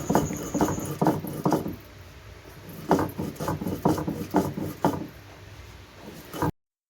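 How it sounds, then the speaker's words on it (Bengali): Spices are ground by hand on a grinding stone in a village home, with rhythmic bursts of close scraping and rubbing strokes repeating at a steady pace before cutting off into silence. "এই সাইডে দেখতে পাচ্ছ মা মশলাটা একটু বেটে দিচ্ছে"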